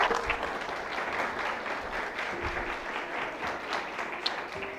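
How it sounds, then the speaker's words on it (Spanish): A church congregation claps during a service, sustained applause carrying at moderate level from start to finish, with faint background murmur and a few sharper individual claps. "Dale un aplauso al Señor."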